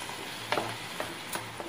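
Onions fry in a pan while a masala is being cooked, giving a steady sizzle with a few quick stirring scrapes over less than two seconds.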